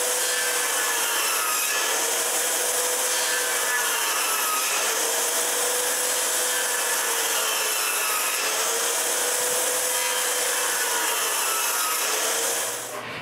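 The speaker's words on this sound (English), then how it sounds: "Next, she has to adjust her saw for the tenon width, and then she can make several cuts to form the tenon." Circular saw cutting a tenon in timber for a timber-frame truss, a steady loud whine that rises and falls in several passes over about thirteen seconds, with no talk.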